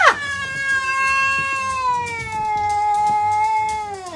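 A cat gives a long, loud drawn-out meow that bends into a wavering caterwaul, a single sustained howl held for several seconds, up close inside a house bedroom with no talking.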